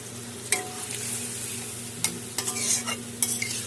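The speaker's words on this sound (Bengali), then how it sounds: "ঝোল আমার ফুটে উঠেছে, আলুর সবজি আমার হয়ে গেছে" Aloo sabji, a potato curry with added water and a pinch of sugar, bubbles in a black kadai while a spoon scrapes and stirs. Several distinct clanking strokes sound over a soft, continuous sizzle.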